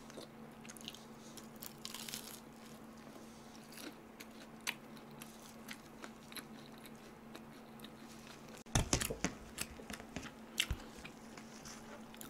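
Close, quiet crunching bites and soft chewing of cheese pizza, with a sharper burst of crunching partway through and faint background hum.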